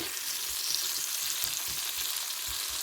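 Brinjal frying with salt in a pan sizzles steadily while a utensil stirs it in soft, regular low scrapes.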